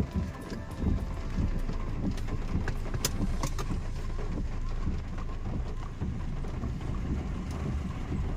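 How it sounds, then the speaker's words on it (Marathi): Steady rain falls outdoors during a school Independence Day celebration, a continuous dense hiss filling the whole stretch, with a few sharper spatters and a faint rumble underneath; no one speaks. "वातावरण कसं झालंय, पाऊस सुरू आहे"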